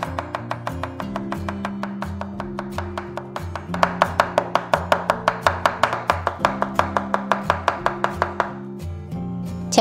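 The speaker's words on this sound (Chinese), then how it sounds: "我们先给它切薄片， 然后再改刀切丝" Knife cutting a potato on a board, rapid evenly spaced chops that speed up into a dense run of sharp taps, loud and close, without talk.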